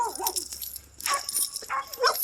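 A big young male pup around 15 or 16 months old gives a few short yips and whimpering sounds, near and fairly loud, in brief bursts separated by quiet gaps.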